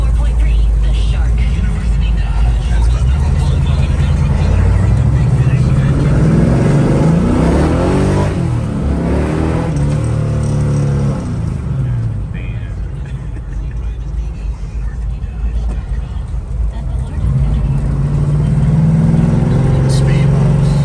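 A 1966 Chevrolet Chevelle muscle car engine revved hard toward about six thousand rpm, loud rising and falling roar with rumbling idle between, people talking over it.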